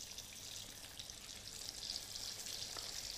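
Beef fries in very hot oil during a second fry for crispy chilli beef, giving a soft, continuous crackling sizzle with faint bubbling, steady and fairly quiet throughout.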